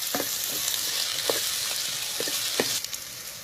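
Garlic and curry leaves sautéing in oil for an anchovy fish curry, a steady crackling sizzle broken by several sharp spatula taps against the pan, no talk.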